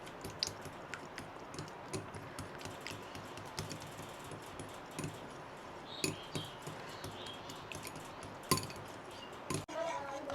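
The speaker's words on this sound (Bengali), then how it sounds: "এখন আমি ডিমগুলো ভালো করে মিশিয়ে নেব।" Eggs beaten in a bowl for a bread-and-egg breakfast toast, giving a steady run of quick clicking taps and small clinks through the whole stretch, close by and fairly quiet, with a few sharper knocks against the bowl.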